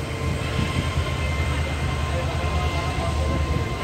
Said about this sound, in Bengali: আর এখন ট্রেন সম্পূর্ণ এই পাহাড়ের পাশ দিয়ে ছুটে চলবে, জঙ্গলের মাঝখান দিয়ে।